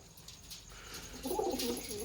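A large pigeon coos in low, throaty bursts, close and clear, rising after a quiet start with faint background hiss.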